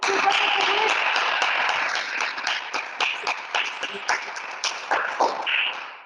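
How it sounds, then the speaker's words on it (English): Audience applause at a conference on Chinese culture and tradition, with steady clapping that starts dense and thins into separate bursts before fading out at the end. "Please, applause to Mr."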